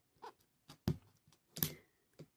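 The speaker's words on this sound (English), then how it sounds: "this zipper's not working very well" Several short rasping bursts of a zipper being pulled, uneven and stop-start, close by with brief quiet gaps between tugs.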